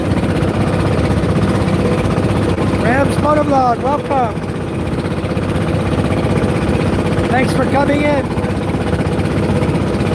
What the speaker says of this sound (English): Maybe I'll go sit up in the front. Engines are kind of loud.